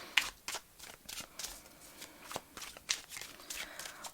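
Tarot cards are shuffled by hand in quick, rhythmic riffles and soft slaps, quiet and close.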